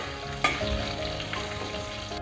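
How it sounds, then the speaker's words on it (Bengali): Cumin and spices frying in hot oil for a papaya and prawn ghonto, giving a steady, close sizzle with a brief clatter of stirring near the start and no voices. "আমি এবার মশলাটাকে একটু ভেজে নিচ্ছি, একটু ভাজা ভাজা হয়ে যাবে"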